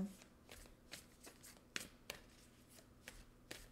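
Moonology oracle cards are handled and drawn from the deck, giving soft papery shuffles with crisp card snaps and flicks at irregular intervals, quiet and close with no talking.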